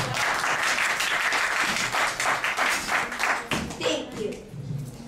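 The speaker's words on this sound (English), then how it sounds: "Could we please have a big round of applause?" Audience applause at a grade 4 school showcase, a dense sustained clapping from a crowd lasting several seconds and thinning toward the end.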